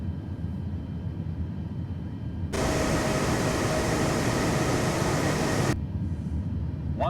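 A Boeing 737 in Microsoft Flight Simulator 2024 on approach to a very short runway gives a steady airflow and engine roar that swells to a loud broadband rush for about three seconds in the middle, then falls back to a lower hum.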